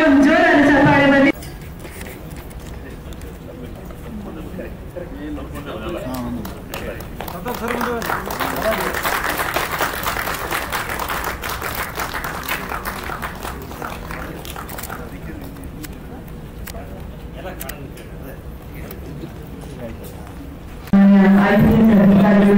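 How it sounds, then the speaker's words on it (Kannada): Loud, sustained applause fills a film poster and song launch press meet for Idhu Namma Shale, swelling in the middle and fading out, with brief talk at the start and end. "ಹಾಗಾಗಿ ಒಂದು ಜೋರಾದ ಚಪ್ಪಾಳೆ ಬಂದಿ"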